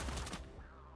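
A single sharp gunshot goes off in the video game Cyber Knights: Flashpoint, a loud broadband crack that rings briefly and then decays over about a second.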